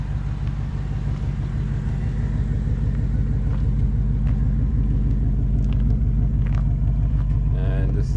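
A 2024 Ford Mustang GT V8 idles in track mode with a deep, steady burbling rumble that stays loud and close throughout.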